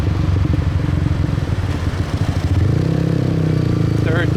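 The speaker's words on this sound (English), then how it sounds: "Third gear downshift" A motorcycle engine on a busy Saigon street in District 7 drops to a lower rev note as the rider downshifts into third, loud and close, with someone talking over it.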